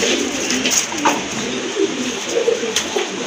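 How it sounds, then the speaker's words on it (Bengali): Red-tailed pigeons coo in a close, steady murmur of soft throaty calls inside a loft, with a constant hiss of background noise. "লালদম কবুতর, একদম কিন্তু সাবচোখের কবুতর"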